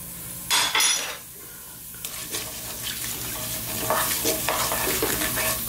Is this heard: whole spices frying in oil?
yes